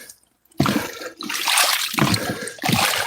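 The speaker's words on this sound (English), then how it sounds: "I think a frog jumped in the water." Splashing and sloshing in pond water outdoors, several loud wet bursts close by, the first starting abruptly after a brief quiet moment, with no talk.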